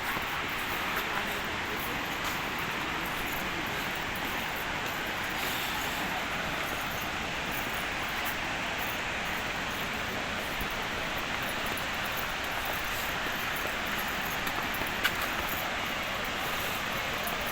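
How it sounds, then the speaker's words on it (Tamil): A steady, loud broadband rush of water roars continuously without pause, close by, masking everything else: the Agaya Gangai waterfall in the Kolli Hills. "அருவியின் ஓசை ரொம்ப அழகாக இருக்கு கேட்க"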